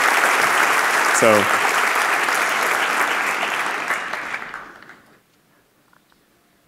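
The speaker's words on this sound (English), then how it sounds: "a huge round of applause and thanks to the dotScale team" A conference audience at dotScale 2016 gives a full round of applause that stays strong for several seconds and then tapers off into near silence, with a brief voice in the middle.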